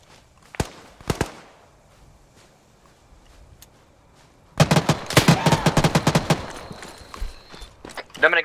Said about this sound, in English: Ah, that's a machine gun.